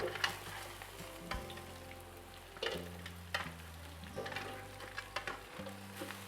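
Pre-boiled goat meat fries in a pan for a Filipino kalderetang kambing, giving a steady close sizzle with scattered clinks and stirring scrapes over a low continuous hum.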